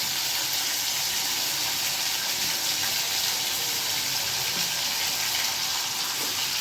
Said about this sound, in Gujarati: જો આ પાણી નાખ્યું